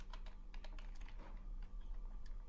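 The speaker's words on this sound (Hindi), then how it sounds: "आप जो भी एंट्री यहाँ पर देना चाहते हैं आप यहाँ पर टाइप कर सकते हैं" Keys clatter on a computer keyboard while entries are typed into Excel, a fast, steady run of light clicks, close and alone with a faint hum underneath.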